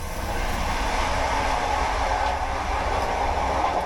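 Steady rumbling interior noise of a moving Finnish commuter train, a continuous broadband roar with faint rattles and no talking.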